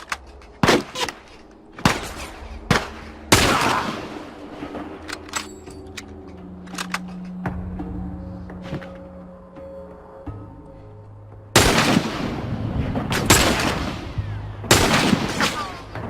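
Sharp gunshots ring out in scattered bursts, some single and some rapid volleys, with game sounds and faint tones between them, in the video game The Last of Us.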